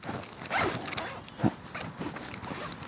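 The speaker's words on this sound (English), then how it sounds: "this really cool, like, three-way zipper door" A zipper on a three-way tent door is pulled in several short, raspy strokes close by, with faint rustling of fabric between pulls.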